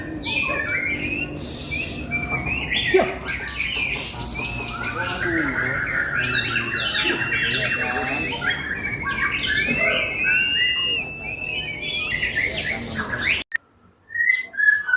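A caged white-rumped shama sings at a field gathering, with loud, varied whistles, chirps and squawks close up running continuously for most of the time, then breaking off briefly before resuming.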